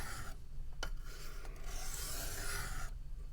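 Steady abrasive rasping of a QSP Penguin knife's D2 steel blade stroked across a diamond sharpening stone, continuous scraping with a few brief clicks, close up and with no voices.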